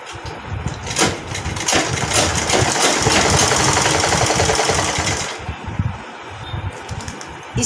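A sewing machine runs steadily while stitching a sleeve, a fast buzzing chatter that lasts several seconds before stopping, with light handling clicks around it.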